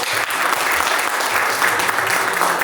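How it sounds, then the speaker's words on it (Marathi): Loud, vigorous applause from an audience at a Maharashtra Mandal Gudhi Padwa gathering, honouring Maharaj, steady dense clapping throughout, close and unbroken. "पुन्हा एकदा जोरदार टाळ्या होऊन जाऊ दे महाराजांसाठी"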